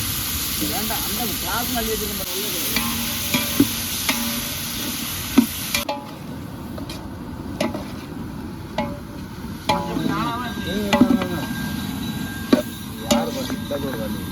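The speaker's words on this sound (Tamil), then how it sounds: "நறுக்கி வச்ச தக்காளி பச்சை மிளகா எல்லாம் சேர்த்து போட்டு நல்லா வதக்குவோம்" Chopped tomatoes and green chilies sizzle in a hot pan while a spatula clanks and scrapes at irregular intervals, the frying hiss loud and close.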